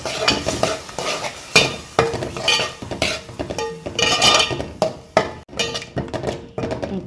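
Spices tempering in hot oil for a Goan crab sukka, loud close sizzling in uneven bursts with spoon scrapes and clinks against the pan.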